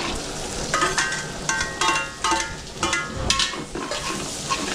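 Marinated pork belly with garlic, onion, soy sauce, pepper and bay leaf sizzles and fries in a pan for adobo, with repeated bursts of stirring scrapes over a steady crackle.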